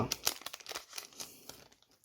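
Scissors cut open the packaging of a Pokémon card box set, giving a close series of crisp crinkling snips and rustles in quick irregular succession.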